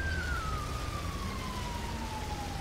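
A police siren wails in the GTA 5 video game, one steady descending tone over a low engine-like rumble, fairly loud and continuous throughout.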